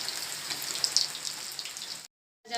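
Food sizzles in hot oil in a home kitchen, a steady crackling fry for about two seconds before a brief silence, then the sizzle resumes.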